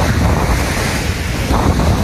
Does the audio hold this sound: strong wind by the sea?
yes